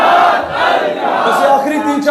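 Crowd chanting the slogan al-Jihad, many voices shouting together in a loud, near, rousing unison call.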